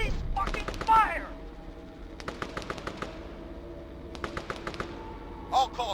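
Bursts of automatic and single-shot gunfire in the military shooter game Arma 3, with rapid crackling volleys repeating across the scene and shouting voices layered under the shots.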